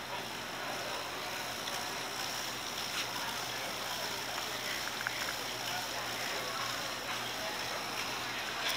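Boats come in and go out at a waterfront restaurant in Miami, with a steady wash of water and engine noise and a low droning hum running throughout at a moderate distance.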